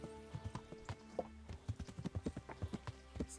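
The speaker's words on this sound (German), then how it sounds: "Ich reite hier auch wie der letzte Henker." A horse ridden through vineyards in the medieval game Kingdom Come trots with a steady clip-clop of hooves, close and fairly quiet, the rhythm quickening toward the end.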